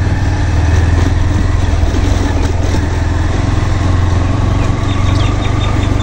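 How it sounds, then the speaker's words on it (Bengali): A motorcycle engine drones loudly and steadily while riding along a bad, rough road through hilly countryside, a close continuous hum with small bumps and rattles. "আমি এই যে বাইক নিয়ে যাইতেছি"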